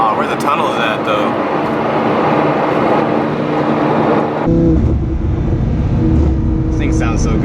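A Lamborghini Huracan's engine drones loudly from inside the car, shifting abruptly midway to a deeper, rougher roar as it pulls, with voices chatting over it.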